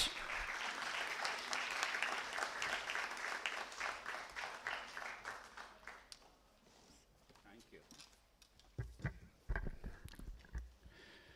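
Audience applause welcoming Shri Sanjay Kumar on stage at an ISRO event, a dense wash of clapping for about six seconds that fades out into quieter room noise and a few scattered claps and knocks.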